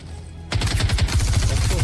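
Video game combat with sustained rapid gunfire bursting in suddenly after a quiet half second, loud, dense, rattling automatic shots continuing to the end.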